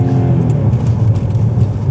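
Jaguar XJ 5.0SC supercharged V8 running on LPG, revving loud and close with a steady deep engine roar throughout, no talking.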